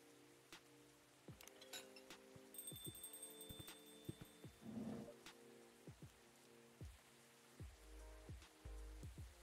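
Steady rain ambience from the Coffee Talk video game's coffee shop setting, a soft continuous patter with faint clinks and a low rumble, alone without talk.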